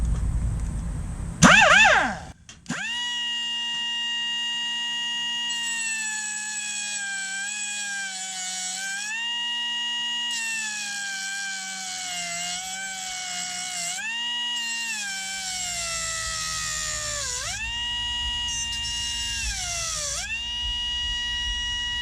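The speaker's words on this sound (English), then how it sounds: "Cut off tool and plenty of air." Pneumatic air cut-off tool slicing through exhaust pipe for a fishtail tip: after a brief clatter it spools up to a loud, continuous whine whose pitch dips and recovers repeatedly as the disc bites into the metal.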